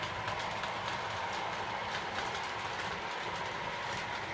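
Two MTH Proto-Sound 2 and 3 model train engines run together on a Lionel layout, giving a steady, continuous rumble and rolling hum with faint clicking, fairly close and without any speech.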